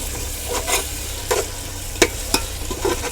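A spoon scrapes and stirs through a pan of goat leg and head curry with ginger paste, giving irregular knocks over a steady low sizzle.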